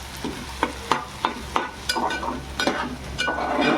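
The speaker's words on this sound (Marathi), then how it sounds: "कांदा आपला मस्तपैकी असा शिजत चालला आहे" Onion fries in a pan for a Marathi wild-greens dish, with a spatula scraping and stirring in regular strokes over a soft sizzle, close and fairly loud.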